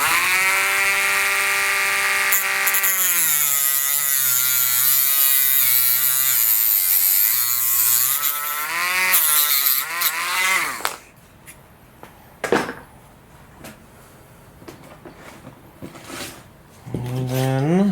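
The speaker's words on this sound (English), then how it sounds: "I'm going to go ahead and just trim off this excess here with the Dremel tool" Dremel rotary tool trimming excess material off a model glider tail boom: a high buzzing whine that shifts in pitch as it cuts, then cuts off, leaving faint clicks and handling sounds with a brief restart near the end.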